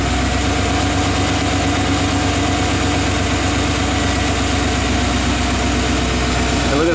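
A classic Chevy engine idles roughly up close, its rich-running lope pulsing unevenly under a loud, steady mechanical drone with vibration throughout.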